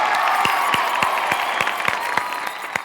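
Studio audience applause in a sitcom scene of a poetry recital, dense continuous clapping with a few distinct sharp claps standing out over the crowd's wash.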